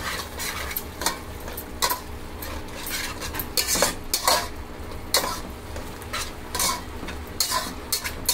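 A spoon stirring spices into a tomato rice mixture in a pan, with close metallic scrapes and clinks over a low sizzle, strokes coming in an uneven rhythm, no voices.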